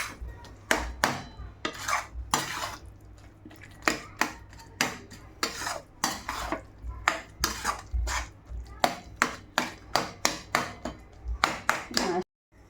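Cooked eggplant is mashed in a pot for kothsu, giving a run of sharp, close utensil knocks and clinks against the metal in an irregular rhythm, ending abruptly, with no speech.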